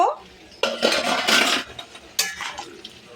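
A lid comes off a cooking pot of simmering kohlrabi and fish curry with a close metallic clatter and scrape, then a second clink of the lid, in a kitchen.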